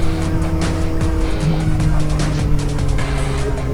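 Kawasaki ZX-4RR motorcycle engine revving high and steady, a loud sustained whine with bright harmonics running throughout, close to the microphone.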